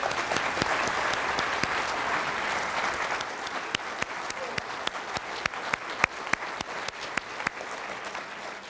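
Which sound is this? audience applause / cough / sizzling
audience applause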